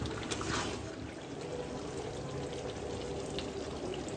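Water is poured steadily in a home kitchen while chicken cooks for a fried rice meal, a soft continuous splash that stays even and fairly faint from start to end, with no talking.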